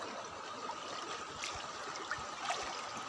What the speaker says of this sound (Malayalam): ചെറിയ സ്ഥലമാണ്, ചെറിയ പുഴയാണിത്.